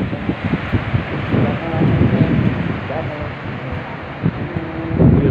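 Strong wind buffets the microphone on the beach at Byron Bay near the lighthouse, a loud, continuous rumbling roar with gusts swelling and easing throughout.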